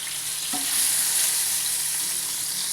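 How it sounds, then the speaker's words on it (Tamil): Fish frying in a pan with curry leaves while being turned over, a loud, close, continuous sizzle with a brief scrape as the pieces are flipped. "மீன் ஒரு சைடு வெந்தாச்சு இப்போ திருப்பி போட்டுக்கலாம்"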